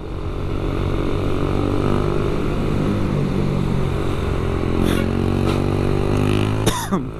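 A motorcycle engine drones loudly and closely under engine braking, its steady harmonic hum sinking slightly in pitch. Wind rushes over it, and a sharp scrape comes near the end.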